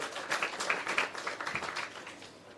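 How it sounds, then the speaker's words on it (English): An audience claps for a lady at the launch of the restored Holland Bamboo Scenic Avenue, a moderate burst of scattered applause that thins toward the end. "give her a round of applause"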